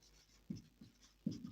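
Marker or chalk writing on a board during a maths lesson on matrices, with a few short, faint scratching strokes in quick succession.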